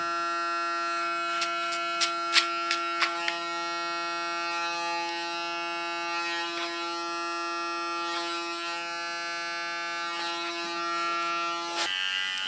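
A small hair clipper trims the contour of facial hair during a men's haircut, humming in a steady buzzing drone close by, with a few sharp clicks and taps near the start.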